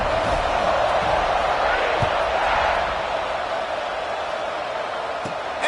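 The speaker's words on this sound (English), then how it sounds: "this crowd is buzzing after that last score" Stadium crowd at an Auburn versus Nebraska college football video game buzzes as a steady, broad roar across the whole stretch, holding level before easing slightly, with faint thuds near the start.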